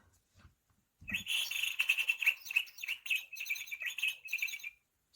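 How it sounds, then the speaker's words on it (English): Birds chirp and tweet in a busy, continuous chorus of bright, high calls, starting after a brief quiet moment and carrying on steadily. "Left alone with the birds"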